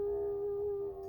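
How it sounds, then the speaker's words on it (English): The family dog howls outside in response to a passing siren, giving one long, steady, sustained tone at moderate loudness without any speech. "That's our dog howling out there."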